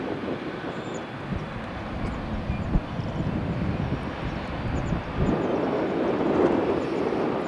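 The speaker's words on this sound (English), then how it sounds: "They got some aggressive takeoff settings on those A320neos." An Airbus A320neo jet rolls for takeoff at Tampa airport at sunrise, its engines giving a broad, steady roar that builds and grows louder toward the end, heard from close by.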